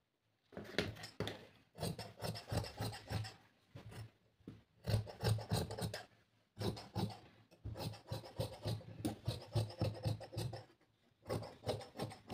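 Scissors cut through blouse fabric in repeated short rasping snips and strokes, close and distinct, arriving in bursts separated by brief pauses, with no talking.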